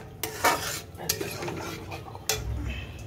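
A metal utensil scrapes and clinks against a pan while an egg golatiya mixture is stirred and sautéed, with a few sharp knocks over a soft background sizzle.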